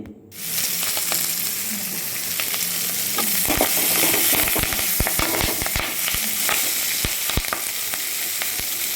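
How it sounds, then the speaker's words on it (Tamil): Ingredients for sankavai thuvayal chutney, a Tamil chutney, sizzle and fry loudly in a hot pan, with a steady crackle and repeated sharp pops and scrapes as they are stirred, and no talking. "அதனால் ரொம்ப ஜாக்கிரதையாக கீ வதக்கிக்குங்க"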